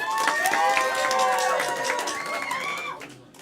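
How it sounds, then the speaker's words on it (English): An improv comedy audience claps and whoops to vote for a performer, a steady crowd applause with high voices shouting and cheering over it, fading out at the end. "if you want that to be Jared, applaud now"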